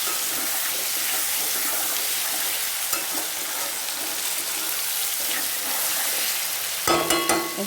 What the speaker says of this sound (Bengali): এবার আমি খুন্তির সাহায্যে মাছটাকে ভালোভাবে কড়াইতে আবার এইভাবে নেড়ে করে কষিয়ে